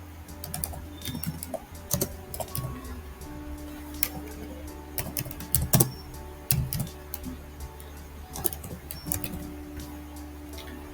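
Keystrokes on a computer keyboard, sharp clicks in irregular bursts with brief pauses, close and quiet over a faint steady background hum.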